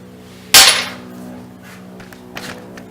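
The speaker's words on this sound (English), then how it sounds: "hit it with a hammer a few times, it levels it back out." A single sharp hammer blow rings out on a curved metal piece being flattened for a welded BBQ build, a loud clang that decays over half a second, followed by a fainter tap a couple of seconds later over a steady hum.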